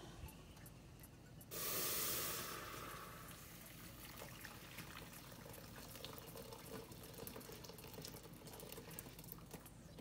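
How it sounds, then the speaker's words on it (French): Water pouring into a hot cooking pot, a loud rushing hiss that swells suddenly, peaks for about a second, then settles into a quieter steady bubbling and sizzle. "on ajoute l'eau."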